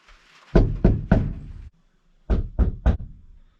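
Two bursts of knocking on a door, three firm raps each, separated by a short pause; close and loud with no talking.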